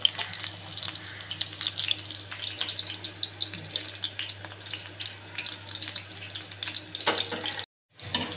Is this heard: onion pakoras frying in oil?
yes